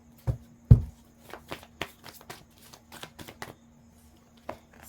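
Tarot cards being shuffled by hand, a run of soft crisp riffling taps with a couple of louder thumps near the start, close and quiet with no talking.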